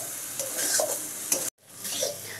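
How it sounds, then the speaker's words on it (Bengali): Flat beans frying with spices while being stirred, with close crackling sizzle and scraping strokes, then a sudden brief silent break before the sizzling and stirring resume. "এবার নেড়ে চেড়ে শিমটাকে ভাজতে হবে।"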